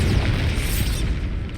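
Confringo blasting spell exploding in Hogwarts Legacy, a short loud booming burst with a rushing, crackling tail that rumbles steadily for under two seconds, near and without speech.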